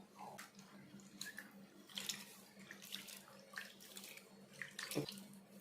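Sago pearls are rinsed by hand in a bowl of water, with soft splashing and sloshing in irregular bursts, quiet and close.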